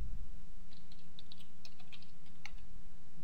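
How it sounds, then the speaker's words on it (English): Quick light keystrokes on a computer keyboard, a short irregular burst of clicks, close and clear over a steady low hum, with no talking. "in here, we're just going to type what it says"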